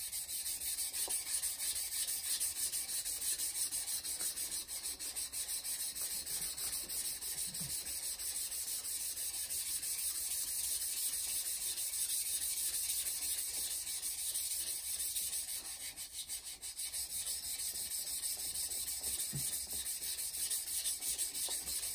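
A Japanese knife's wide bevel is thinned in the middle on a sharpening stone, giving a steady, close scraping rub that runs on without a break and without talk.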